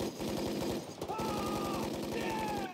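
Rapid automatic gunfire from an ambush scene in the film Tropic Thunder, a dense continuous rattle of shots with a whistling tone over it, loud and sustained.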